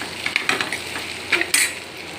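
Poha for Gujarati-style batata poha is stirred in a pan with a spoon, giving a few quick scraping and clinking strokes over a soft sizzle.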